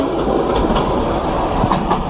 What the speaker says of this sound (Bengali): দেখতে পাচ্ছেন টয় ট্রেন।